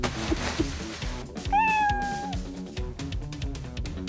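A thin, high newborn kitten meow in a video game rises and holds briefly, with soft bumps and background noise around it.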